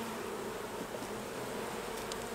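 Dense, steady buzzing of many honeybees close by around honey frames during a harvest, a continuous droning hum with no voices.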